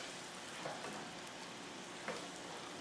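Vegetables sautéing in a pan, with a soft, steady sizzle and hiss marked by a few light stirring scrapes, faint and continuous with no talking.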